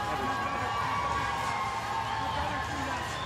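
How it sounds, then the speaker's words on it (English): A large crowd at a bare knuckle fighting championship event in Florida cheers and roars steadily, a dense continuous wall of voices filling the arena. "Jomi Escoboza playing to this very pro Escoboza crowd."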